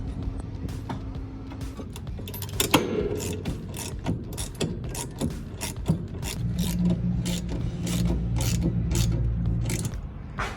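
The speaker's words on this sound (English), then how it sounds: "tighten down the actual brackets before I reassemble the light bar" A ratchet wrench tightening light bar brackets on a Gobi roof rack of a fifth-generation Toyota 4Runner, with rapid repeated clicking strokes in bursts, close up, alone.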